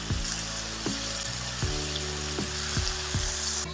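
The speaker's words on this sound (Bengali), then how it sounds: "আমি তেলের মধ্যে পেঁয়াজ রসুন তুলে দিয়ে দিয়েছি" Onion and garlic fry in hot oil for a Bengali fish kalia, a loud continuous sizzle broken by repeated clinks and scrapes of a spatula stirring in the pan.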